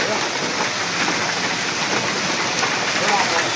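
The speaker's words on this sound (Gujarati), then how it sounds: "જોરદાર વરસાદ આવે ભાઈ." Heavy rain mixed with hailstones pours steadily in Rajkot, opposite the market gate, a dense, continuous wash of hiss and patter with scattered sharper hits throughout.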